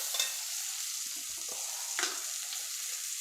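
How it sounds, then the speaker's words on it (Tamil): Onions and curry leaves sautéing in a pan, a faint steady sizzle with occasional light spatula scrapes, quiet and close with no talk. "இப்போ நம்ம வெங்காயத்தை நல்லா வதக்கி எடுத்துடலாம்"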